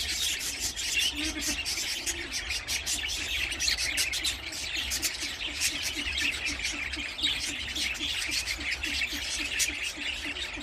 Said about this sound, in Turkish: Bu salma kafeste 7 tane sultan papağanı var. Onun haricinde geri kalan hepsi muhabbet kuşu.